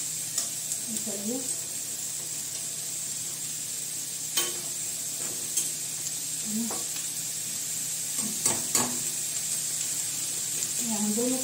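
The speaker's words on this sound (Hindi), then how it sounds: "अभी मैं इनको डीप कर रही हूँ और गर्म भी हो जाएंगे" Gobi manchurian pakoras deep-frying in hot oil, giving a steady close sizzle with a few clinks and stirring knocks, while someone talks intermittently over it.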